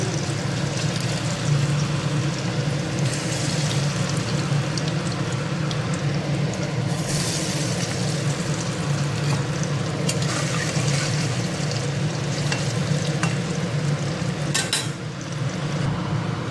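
Pieces of pointed gourd frying in hot oil in a home kitchen give off a steady, dense sizzle that runs unbroken and fairly loud throughout, with no voices.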